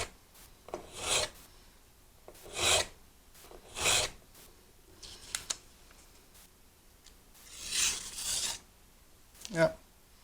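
An old knife blade is touched up on a Sharpal 6-in-1 knife sharpener, making about six separate rasping strokes, close and fairly crisp, with quiet pauses between them.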